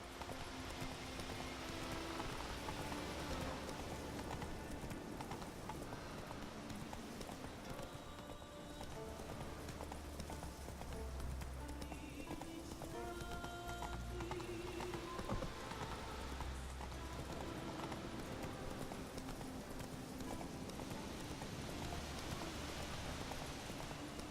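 Roach, Geralt's horse in The Witcher 3, gallops with a steady clip-clop of hooves that lasts throughout, moderately loud, with rain pattering in the background.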